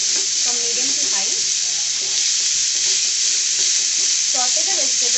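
Vegetables sauté in a hot pan over a high flame, giving a steady, loud sizzle throughout with occasional stirring scrapes. No one speaks.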